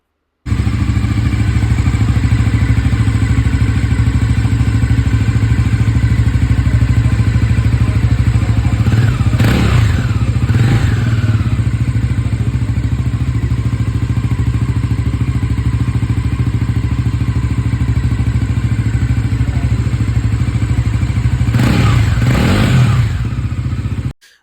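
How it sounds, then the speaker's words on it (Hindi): A Bajaj Pulsar NS 400Z motorcycle exhaust runs loud and close, holding a steady burbling idle broken by two sharp throttle blips that snap up and drop back. "बजाज पल्सर NS 400Z का एग्जॉस्ट साउंड काफ़ी बेजी है और ये काफ़ी लाउड भी है"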